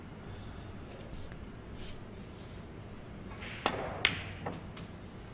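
Snooker balls in a UK Championship match, a cue-ball strike sending an object ball toward the centre pocket: a few sharp, distinct clicks and knocks close together over a quiet hall ambience, with no talk.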